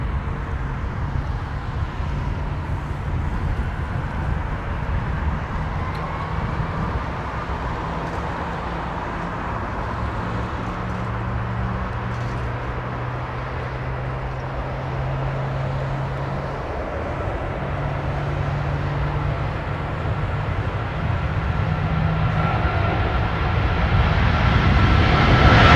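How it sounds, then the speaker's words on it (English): GE jet engines start up at Heathrow Airport, a broad steady rumble with low whining tones that rise and hold, overlapping and growing louder toward the end, heard from a distance with no nearby talking. "symphonic startup of GEs"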